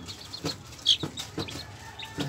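Young Sebright bantam chickens, about six weeks old, cluck softly in short, scattered calls, with a few higher peeps in a quiet pen.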